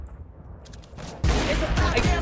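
Rapid gunfire from CS:GO in a match against expert bots, a loud dense burst of shots kicking in partway through and continuing to the end, with a player's voice faintly beneath.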